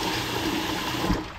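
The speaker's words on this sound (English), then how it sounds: "So I'm gonna rinse the rice first." Running water splashes steadily as raw rice is rinsed in a kitchen, a continuous close gushing sound with no talk.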